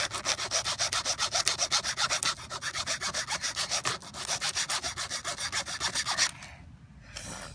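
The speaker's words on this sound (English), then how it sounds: "once you rub it against a piece of wood, it kind of makes a cut" Rhythmic rasping as a Leatherman multitool blade is rubbed back and forth across wood, quick even strokes close up, pausing briefly midway and tapering off near the end, with no voices.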